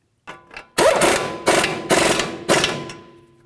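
A ratchet clicks in several short bursts, with clanking and pauses between them, as it runs down the strut mounting nuts on a 2007-2017 Jeep Compass front strut and spring assembly. It sounds close and fairly loud, with no talking.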